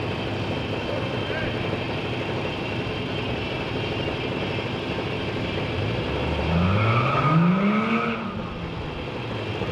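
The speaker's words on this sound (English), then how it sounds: "bit of burnout" A 2020 Toyota Supra drag race car does a burnout on the strip, revving engine climbing and falling with tire squeal over a loud steady crowd and track ambience.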